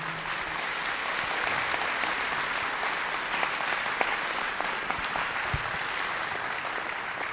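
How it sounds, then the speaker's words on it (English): Sustained applause from a large debate audience at Heritage Baptist Temple, steady and even throughout, with no voices over it. "Give both of them a round of applause, would you?"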